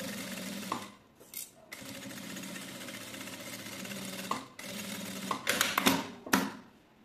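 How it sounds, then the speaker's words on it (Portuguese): Sewing machine stitching a seam close along the teeth of a zipper on a padded fabric box, running in a steady buzzing whir with short pauses and a few clicks and clunks as the fabric is adjusted. "E venho aqui pela parte da manta e faço a costura rente aos dentinhos do nosso zíper novamente."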